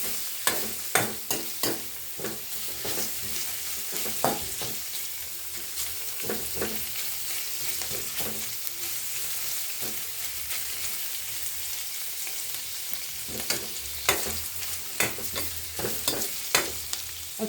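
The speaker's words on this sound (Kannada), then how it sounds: "ಸ್ವಲ್ಪ 4 ಸ್ಪೂನ್ ಎಣ್ಣೆ ಮತ್ತು ಈರುಳ್ಳಿ ಹಾಕ್ಕೊಂಡು ಫ್ರೈ ಮಾಡ್ತಾಯಿದ್ದೀನಿ" Sliced onions frying in about four spoons of oil for veg fried rice: a continuous close sizzle broken by repeated sharp scraping stirs at an irregular rhythm, with no voices over it.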